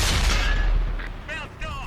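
A tank cannon firing in World of Tanks, one heavy, booming shot that rolls out in a long low rumble with a few faint tones afterward.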